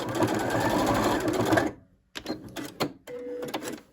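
Sewing machine stitching straight across a seam on an extra-large fabric scrunchie, a close, steady whir for about a second and a half, then short bursts and handling clicks as it backstitches.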